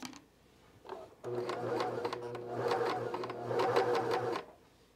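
A cover stitch sewing machine sews binding with a binding attachment, running in steady whirring bursts of rapid needle clatter that build after a brief start, close and alone.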